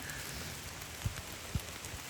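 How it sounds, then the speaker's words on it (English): Steady rain pours down, heard from under a canopy in a state park, with a broad even hiss and a couple of heavier drips or thuds landing close by. "Boy, it's raining hard."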